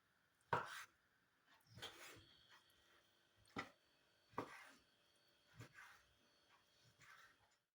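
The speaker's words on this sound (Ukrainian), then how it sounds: "Я її нарізаю шматочками." A knife chops pork into pieces on a board in slow, separate strokes, about six dull thuds with pauses between them.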